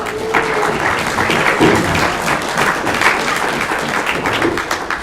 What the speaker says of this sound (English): I'm glad that we've had a chance to applaud for you, Archbishop Lamido, right now